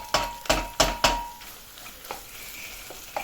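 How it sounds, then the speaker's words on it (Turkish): Tomato and pepper paste frying in oil with minced meat in a pan, a steady sizzle broken by several sharp scraping stirs of a spoon at the start, close and loud. "domates, biber salçamı da biraz yağda kavurayım"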